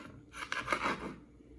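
Knife slicing through tough-cased smoked sausages, a short soft rasping cut lasting about a second, faint and close.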